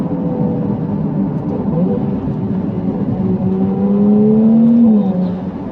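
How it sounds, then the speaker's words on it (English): A Ferrari 296 with its V6 engine revs loudly and steadily, the pitch rising and sweeping through the gears in a sustained, close drive-by howl with no talking. "that V6 Piccolo is really singing. It really does sound incredible"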